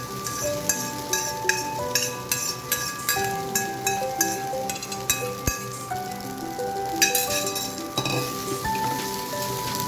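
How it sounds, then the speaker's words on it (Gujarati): Leftover rice goes into a hot frying pan for lemon rice and is stirred, giving a steady sizzle with scraping and clinking of the spoon against the pan, close and moderately loud, with no talking. "હવે આપણે એમાં આપણા જે રાઈસ હતા વધેલા એ એડ કરી દઈશું."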